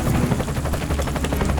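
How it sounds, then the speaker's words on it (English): A helicopter waits on a landing pad, its rotor thumping in a steady, rapid beat close by and fairly loud, with no voices over it. "Helicopters arrived on the pad, waiting for you."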